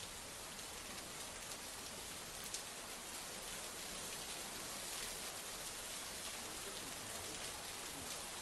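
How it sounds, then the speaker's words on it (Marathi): Heavy monsoon rain pours steadily over Mumbai's Mantralaya area during a thunderstorm, a dense, even hiss of drops hitting surfaces that holds at the same level throughout with no voices. "मुसळधार पाऊस सुद्धा आपल्याला बघायला मिळतोय"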